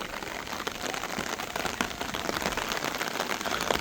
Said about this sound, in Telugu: వాన వెల్లువాయే,